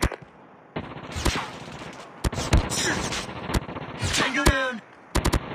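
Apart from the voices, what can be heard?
sentry gun firing in the video game Call of Duty Mobile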